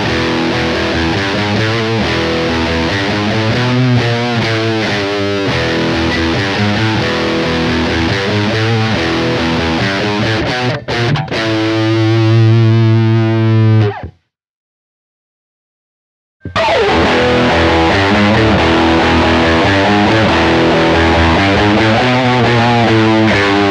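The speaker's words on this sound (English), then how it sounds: "Now let's try the lead model, and here you will be able to tell that the gate makes a massive difference." Heavily distorted electric guitar played through a lead amp model with a noise gate, sustained riffing that cuts to complete silence for a few seconds when playing stops, then resumes at full volume.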